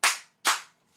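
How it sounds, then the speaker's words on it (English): Two sharp hand claps, close and loud, evenly spaced about half a second apart with no other sound. "2 claps and an unenthusiastic woo"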